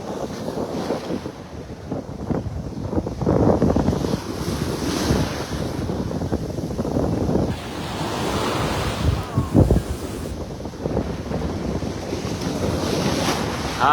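Atlantic Ocean waves surge and wash continuously under strong gusting wind that buffets the microphone. The roar stays loud and unbroken with no voices.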